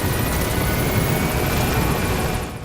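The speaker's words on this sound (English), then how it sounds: "Support helicopter is arrived." A support helicopter in the video game Metal Gear Solid V: The Phantom Pain gives a loud, close, continuous rotor and engine roar that fills the short stretch and eases slightly at the very end.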